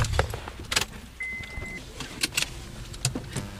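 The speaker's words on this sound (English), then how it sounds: "Coulombe gets in her car to go visit Russell Peacock" Someone gets into a car: scattered clicks and thumps of a door, keys jangling, a short whirring electric motor and shifting noises, close by, in an otherwise quiet interior without speech.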